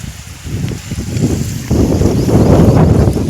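A motor pump drives water into a jujube orchard field, a steady broadband engine drone outdoors with wind buffeting the microphone. It grows louder partway through and continues without a break.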